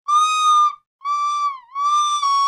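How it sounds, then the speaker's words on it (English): A Minecraft music disc plays a thin, recorder-like melody of three sustained, piping notes, with a brief gap after the first and a slight dip in pitch between the later two, loud and clear with nothing else behind it. "the music disc that literally sounds like an elementary school recorder concert"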